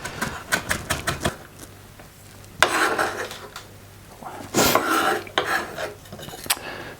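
A knife chops a shallot on a cutting board, with a fast patter of sharp taps followed by a few scraping, heavier strokes, close and clear, with no talking.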